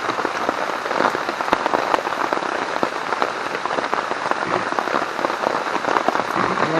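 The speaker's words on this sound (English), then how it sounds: "it's a good steady rain" Steady heavy rain drumming on a tarp at a solo wild campsite, dense close patter with sharp individual drop hits, constant throughout with no talking.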